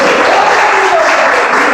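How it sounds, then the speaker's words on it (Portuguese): A church congregation applauds, a loud, dense wash of clapping from many hands that stays steady for the whole short stretch, with faint voices underneath. "Você pode aplaudir a Jesus por essa mensagem"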